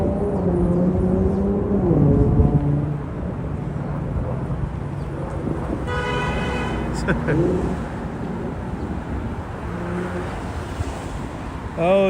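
Car traffic on a Brooklyn street in New York City, a constant wash of passing engines and tire noise with a car horn sounding in the middle, heard under people talking nearby.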